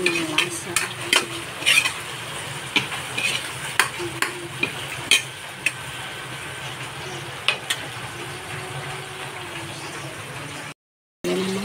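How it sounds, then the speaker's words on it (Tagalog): Garlic being sautéed in a pan, a steady sizzle punctuated by frequent sharp clicks and scrapes of a spatula against the pan, ending in a short silence. "Gisa na natin ang ating bawang."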